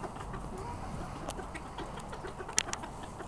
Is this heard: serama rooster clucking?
yes